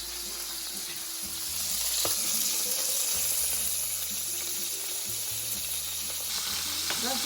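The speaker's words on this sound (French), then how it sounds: "nous avons mis de l'huile dans la poêle dans laquelle nous allons frire des saucisses" Sausages sizzle in hot oil in a frying pan, a close, steady crackling hiss with faint clatter of the pan and utensils, no talk heard.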